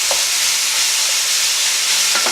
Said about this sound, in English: So we're aiming just to brown the whole lot of this mince off.